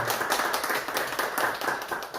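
An audience at a Korean talk on ecological spirituality in the climate crisis claps steadily, a dense, even patter of many hands for about two seconds with no voices over it.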